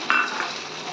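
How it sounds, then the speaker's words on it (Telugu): Peanuts going into a hot pan for a bachala pickle, a brief bright rattle as they land, then a steady frying sizzle for the rest of the moment, close and clear. "పల్లీలు కొన్ని వేసుకోవాలి"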